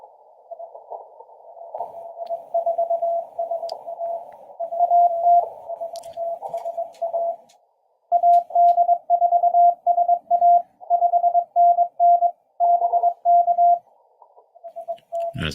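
Morse code CW signals heard as an amateur radio sidetone during a POTA hunt, a clear steady beeping tone keyed in rapid dots and dashes, loud and alone with a brief pause midway.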